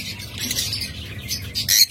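A high-mutation pair of yellow lovebirds in a cage chirps and squawks close by. The bright, rapid calls run in short bursts, growing louder near the end.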